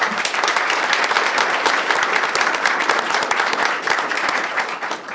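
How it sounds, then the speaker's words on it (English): Audience applause at a school district board meeting, a dense, continuous roar of many people clapping together, loud and steady throughout before easing slightly at the end. "So if we can please give Cynthia a round of applause for her."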